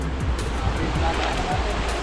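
Fast-flowing river current in Taiwan rushes steadily and close by, a broad continuous wash of water with faint voices in the background.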